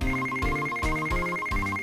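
Electronic metal detector reaction from the Ace Attorney Investigations 2 video game, a loud repeating ringtone-like beeping pattern with steady high tones pulsing in quick cycles, heard alone without speech.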